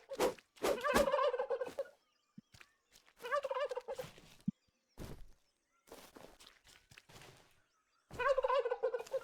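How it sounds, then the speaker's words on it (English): Turkeys in the video game Tribe Primitive Builder gobble in several loud, rapid warbling bursts separated by short gaps, with soft thuds and footsteps in between. "Come here, turkeys."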